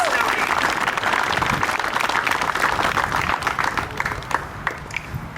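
Crowd applause at a charity opening ceremony, dense sustained clapping from many people that stays loud throughout, with cheering voices mixed in and a slight thinning toward the end.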